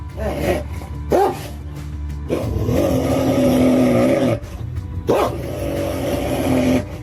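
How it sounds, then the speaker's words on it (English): A Central Asian shepherd dog, a flock guardian, gives deep, powerful barks in a few separated bursts with growling between them, loud and close, over a constant background rumble. "Central Asian shepherd dogs have been bred for centuries to protect flocks from predators with a bark so powerful it's like a sonic weapon"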